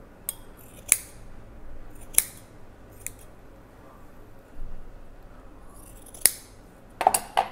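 Horl scissors cut through eight stacked layers of fabric, producing several crisp, separate snipping clicks spaced irregularly, close and clear over a quiet background.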